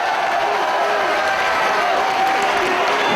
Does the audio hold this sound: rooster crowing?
no